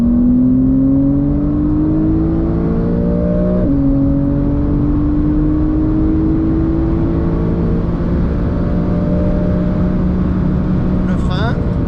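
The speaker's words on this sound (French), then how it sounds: "On ouvre le volant, on accélère." A Porsche race car accelerates on track, with a loud, close engine note climbing in pitch, dropping briefly at a gear change and then climbing again, filling the clip without talk.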